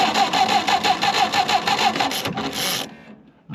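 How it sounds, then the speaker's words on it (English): Electric starter cranking the 172 ci gas engine of a Garrett 15 skidder, a rapid rhythmic whirring chug of rotation close up, then it winds down and stops, with a brief clunk at the end. "I have rotation of the engine."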